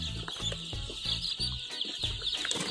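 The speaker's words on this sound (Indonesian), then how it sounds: "Nak ambil ayam gajah ni" Elephant chickens cluck repeatedly in a busy chorus on a farm, close and steady, with a constant high-pitched insect-like or bird chirping running throughout.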